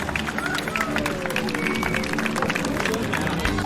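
An audience applauds a Portuguese folk dance troupe in Macau, with steady, sustained clapping from a crowd filling the whole moment alongside a murmur of voices.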